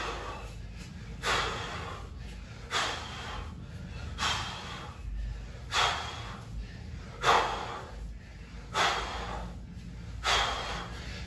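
Heavy, sharp exhales repeat at a steady rhythm of roughly one every one and a half seconds during dumbbell swings in a workout, close and breathy, with no talk.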